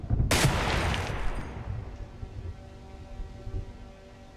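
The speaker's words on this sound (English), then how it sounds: "Tap, rack, and then boom." A single loud gunshot cracks in the PC game Receiver 2, followed by a rumbling echo that fades away over a few seconds.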